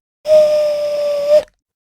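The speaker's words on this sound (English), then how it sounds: "The whistle sounds again." A single loud, steady whistle blown close up, one sustained pitch lasting just over a second before stopping abruptly.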